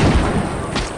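A single sniper rifle shot in the Hunting Sniper video game, a loud, close, booming blast with a short rumbling tail, heard alone.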